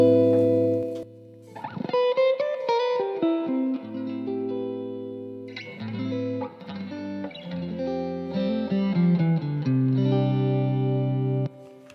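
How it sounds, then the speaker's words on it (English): A Fender Stratocaster electric guitar plays clean tones, picked single notes and ringing chords that sustain and decay, heard alone and clearly up close. "maybe I make some clean tones here."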